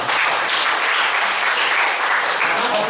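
Applause from an audience at a school event, loud, dense and continuous clapping heard up close for a few seconds with no speech over it.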